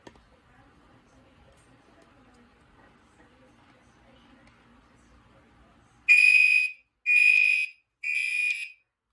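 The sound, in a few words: Notifier NFS2-640 fire alarm sounding during heat detector test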